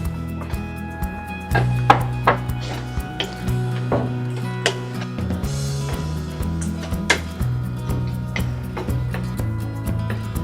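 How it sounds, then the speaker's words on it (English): Vegetables for an oil-free bottle gourd, cauliflower and mixed bean curry tumble into a pot, giving a run of scattered knocks and taps over a steady low hum, with a few louder clatters near the start. "And lastly, add all the vegetables."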